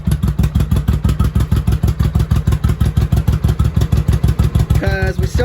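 A 1983 Honda Shadow VT750C motorcycle engine warms up close by, with a loud, steady, rapid chugging pulse that runs throughout; a brief higher tone rises near the end.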